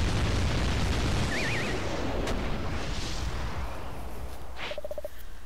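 A tank in the video game Shantae and the Pirate's Curse blows apart under cannonball hits, a sustained booming rumble of explosions with small chiptune blips near the end.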